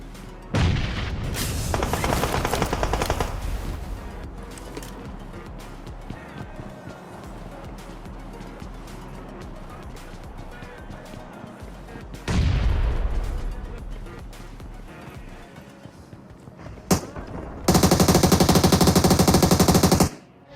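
Gunfire in the mobile battle-royale game BGMI: loud automatic bursts at the start, another volley near the middle and a dense, sustained stretch of firing near the end, with quieter game ambience in between.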